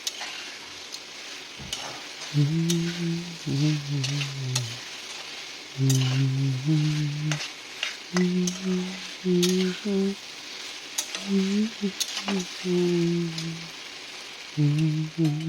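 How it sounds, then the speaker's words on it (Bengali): Fried pointed gourd and potatoes sizzle in a pan of spices as they are stirred. Crackling frying noise runs throughout, with repeated scraping strokes in a rough rhythm, close and fairly loud. "এবারে আমি ভাজা পটল আর আলুগুলো আমি এতে ঢেলে দিলাম, দিয়ে এটাকে আমি একটু ভালো করে আবার কষিয়ে নেব।"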